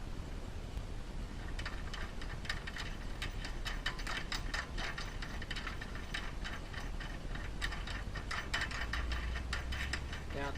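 Small metal parts clicking and rattling as a nut is finger-tightened onto a bolt with a washer on a sewing machine table motor stand, a dense run of close, quick mechanical ticks with no talk.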